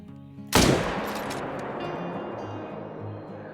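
A single loud, close rifle shot fired at a moose in a hunting video game cracks out sharply, then rings into a long decaying echo over steady ambient noise.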